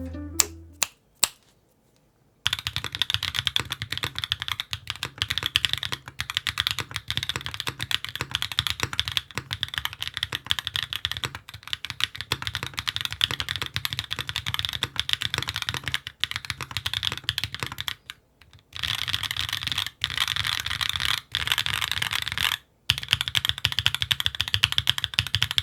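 Typing on a Mode Designs Tempo 60% keyboard with a carbon fiber plate and bottom case foam, a rapid, steady stream of close, crisp keystrokes with a few brief pauses.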